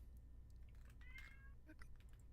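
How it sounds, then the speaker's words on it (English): A cat meows once, clearly but not loudly, during a relaxed talk show, with a quieter chirp shortly after, over low background hum and soft studio noise. "Cat says, screw you. I'll meow what I want."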